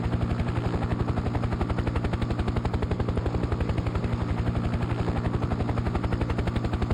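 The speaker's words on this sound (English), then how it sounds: "since I've got the helicopter, I thought I'd just fly around, take a look at things" A helicopter flies steadily in Farming Simulator 17 on a North West Texas map. A loud, continuous rotor chop holds an even rhythmic pulse over a broad engine roar throughout, with no talking.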